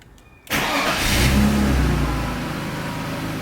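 A BMW E39 with a manual conversion cranks and starts after a short silence, then settles into a steady mid-pitched idle with a brief rev near the start, close and loud with no talking.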